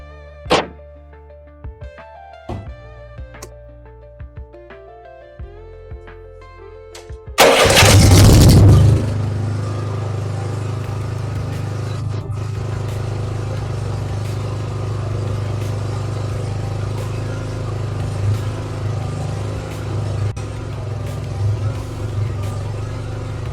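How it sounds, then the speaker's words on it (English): Generator engine with repaired brushes is cranked and catches with a loud roar after several clicks and clunks, then settles into a steady, close running drone with a constant hum that lasts to the end. "We have all the spare parts and generator running."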